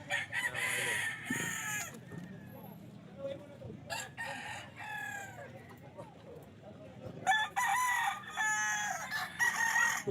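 Roosters crow in repeated bursts at a chicken booth in a busy pet market, loud and close, with clucking and a voice talking between the calls.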